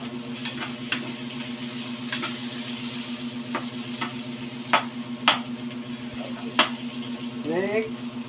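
Onions sauté in a pan for escabeche, a steady sizzle with a low hum underneath and occasional clicks and scrapes of the stirring utensil.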